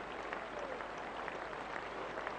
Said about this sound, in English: Loud applause round the ground